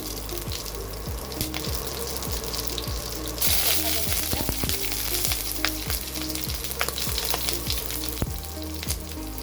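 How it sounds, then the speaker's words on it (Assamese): Whole cumin and dried red chilli spluttering in hot oil, a steady loud sizzle with rapid popping crackles that briefly intensifies, close up and without talk. "আমাৰ তেলটো গৰম হৈ গ'ল। এতিয়া ইয়াতে গোটা জিৰা অলপ দিলোঁ, শুকান জলকীয়া এটা"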